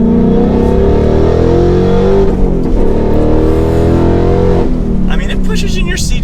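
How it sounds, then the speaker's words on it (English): A 2021-2022 Ford Mustang Mach 1 Premium accelerates hard, its loud engine climbing steadily in pitch through the gears, heard from inside the car; the roar lulls briefly near the end before picking up again. "another acceleration."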